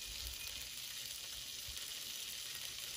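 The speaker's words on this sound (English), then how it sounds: "Can you hear the sizzling right there, guys?" Food sizzles and fries while cooking outdoors at a Fourth of July gathering, a steady, faint hiss that runs continuously with no talking.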